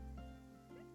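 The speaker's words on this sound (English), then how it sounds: "It's raining." Game rain falls as a steady, soft hiss with a faint low rumble, continuous for a moment with no voices over it.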